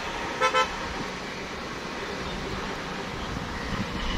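Vehicle rolling slowly along a bumpy, uneven road, a steady broadband road and engine rumble with two short horn toots near the start.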